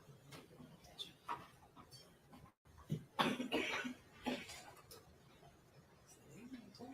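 A single cough rings out in a quiet courtroom during a preliminary hearing, a short burst standing out above faint background murmurs and quiet speech.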